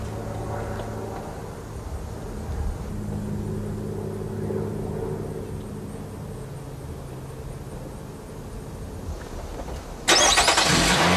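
A brand new 2012 General Motors car idles with a steady mid-pitched engine hum, and a sharp, louder burst of noise arrives near the end as it revs or starts.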